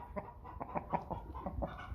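American Bresse cockerel, seven months old, clucking softly in a farm pen with a steady run of short, close clucks and low murmurs and no voices.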